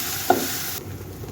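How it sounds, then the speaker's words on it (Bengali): Garlic paste sizzles in a hot pan while a katla fish curry is being cooked, a short steady hiss with a brief clatter near the start that cuts off abruptly after under a second. "রসুনটা ভেজে নিই।"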